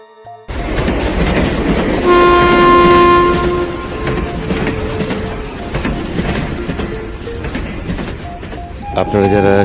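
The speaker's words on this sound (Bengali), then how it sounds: "সকাল সকাল ট্রেন ধরে হাড় হিম করা ঠান্ডার মধ্যে ভিড় ট্রেনে দরজার পাশে বসে প্রকৃতিকে দেখতে দেখতে চললাম রেজিনগরের উদ্দেশ্যে" A crowded passenger train on the Sealdah–Lalgola line running loudly over the rails, with a steady rumble and rattle, a sustained horn blast early on, and voices mixed into the din.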